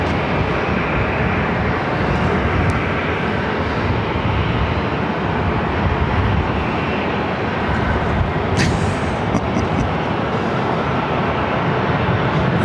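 A Singapore Airlines airliner crosses runway 24 left at LAX, heard as a steady, loud, broadband jet engine roar that holds throughout, with no talk over it.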